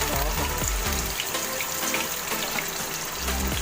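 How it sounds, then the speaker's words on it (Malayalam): Cooked basmati rice for biryani is drained, giving a steady, close rush of pouring and splashing water that runs continuously without any speech. "ഇവിടെ ബസ്മതി റൈസ് ഇതാ വെന്തിട്ടുണ്ട്. നമ്മൾ വാർക്കുകയാണ്."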